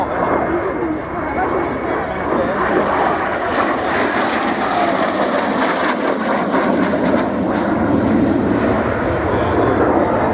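A two-seat Hawker Hunter jet, converted from a single-seater and first built as a Mark IV in 1955, flies at an airshow with a loud, sustained engine roar, a commentator talking over it.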